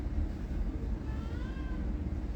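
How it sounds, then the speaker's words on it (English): A house cat meows a few times in the background, faint and partly buried under a steady low hum and room noise. "No, it's the cat."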